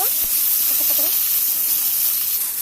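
Roast (chicken) frying in a pan at a home cooking session of wedding-style dishes, a loud steady sizzle with a few faint clinks early on, no speech.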